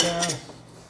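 A metal lid pressed onto a cocktail shaker holding Kahlua and other liqueurs, one close, bright metallic clink with a short ringing tail.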